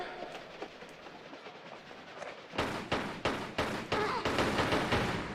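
A train rolls along in the game Tomb Raider: The Last Revelation, with a steady rumble that turns into loud, rhythmic clacking bursts partway through, fairly close and with no voices over it.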